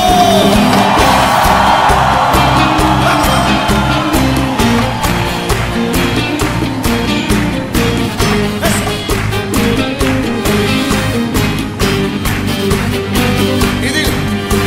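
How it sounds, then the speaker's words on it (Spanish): A worship crowd cheers, whoops and shouts for joy over loud, continuous upbeat Christian praise music, the voices blending into the band throughout. "¡Levanten un grito de júbilo!"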